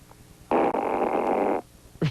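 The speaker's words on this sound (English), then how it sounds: "can you grade a fart that I'm doing here?" Fart made by a caller over the phone on a radio show: a single sustained, buzzy blast lasting about a second, heard through a narrow telephone line and followed by a brief voice.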